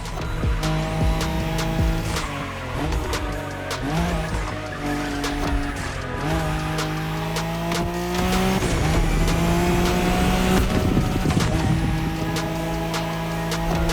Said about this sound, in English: The Skyline is an icon. It's a powerful car that takes skill to control.